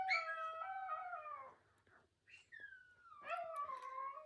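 Several dogs howl together, long wavering falling tones overlapping, then a pause before another round of mournful howls with a few short yips, fairly close and without talk.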